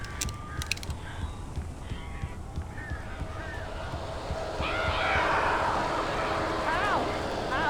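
Strange birds in the game Alan Wake Remastered give honking, squawking calls that grow busier and louder in the second half, set against a steady ambient rumble.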